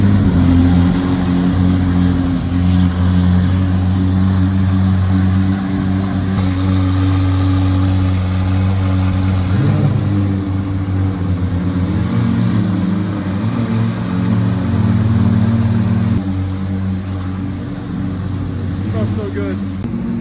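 Two McLaren hypercars, from a limited run of thirty, idle loudly after starting up, with a deep steady engine drone throughout while people talk excitedly nearby.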